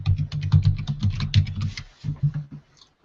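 Quick fingers tap on a computer keyboard while entering a website description, a close, steady run of crisp key clicks that slows and thins out toward the end.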